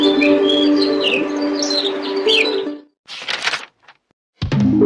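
A Pancawarna bird sings in short bursts: a run of varied chirps and whistles, then a pause, a few sharp notes, and another brief call, loud and close.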